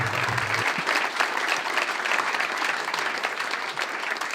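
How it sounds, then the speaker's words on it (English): Steady, full audience applause as a guest is welcomed to the stage at a live election Q&A show, continuous dense clapping at constant level. "Give him a big round of applause."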